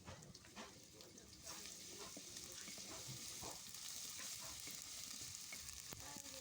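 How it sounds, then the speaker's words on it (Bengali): Onions and chilies frying with ginger-garlic paste in a home kitchen, a steady broadband sizzle that thickens after the first second, with intermittent stirring scrapes and faint background voices. "প্রথমে আমি পেঁয়াজ মরিচগুলো ভেজে নিতেছি"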